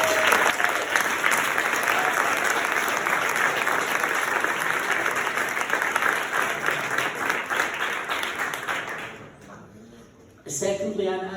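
Sustained audience applause at a talk on reducing ocean noise, dense and steady for about nine seconds, then fading out as a voice starts speaking.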